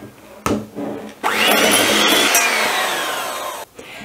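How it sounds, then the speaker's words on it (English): A blender creams sugar and vegan butter in a tall glass jug, starting with a short burst and then running as a loud, steady whir for several seconds before cutting off. "I'll get a taller glass jug so we can blend without things flying all over the place."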